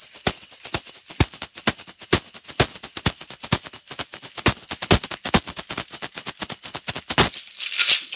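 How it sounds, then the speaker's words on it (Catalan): A metal tambourine, an unpitched percussion instrument, is struck and shaken in a rapid, steady rhythm of bright jingling hits, close and fairly loud, with no voices over it. "Aquest és la pandereta."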